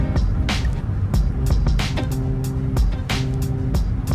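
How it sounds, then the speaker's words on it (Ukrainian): Car cruising at about 40 km/h along a driving exam route, a steady engine and road rumble with a couple of faint clicks and bumps heard from inside the cabin. "навіть я зараз їду на швидкості 40 км на годину"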